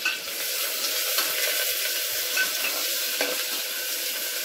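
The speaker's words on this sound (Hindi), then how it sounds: "और प्याज को हम हल्का सा सोटे करेंगे, इसको ब्राउन नहीं करना है।" Onions sauté in hot mustard oil, giving a loud, continuous sizzle that stays steady and close throughout, with no speech over it.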